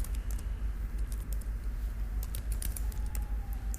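Code is typed on a computer keyboard in rapid, steady clicking, close and fairly quiet over a low background hum, with no talking.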